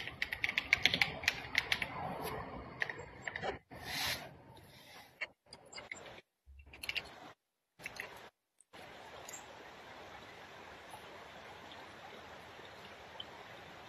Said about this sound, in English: I'm typing all my names in now.